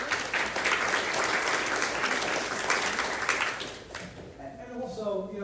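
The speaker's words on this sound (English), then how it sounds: "but let's give them a round of applause" An audience applauds team members at a BNA legislative community update, a dense burst of clapping from a roomful of people that fades after about four seconds into quieter room sound.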